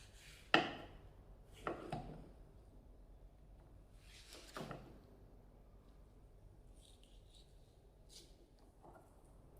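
A knife cuts through a peeled mango, giving three or four separate soft chopping knocks spaced a second or two apart, close by and quiet against a hushed kitchen background.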